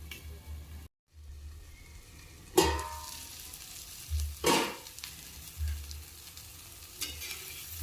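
Tomato and egg fry quietly in a pan, giving a low sizzle punctuated by a few louder bursts of crackling as the mixture is stirred, with brief pauses between.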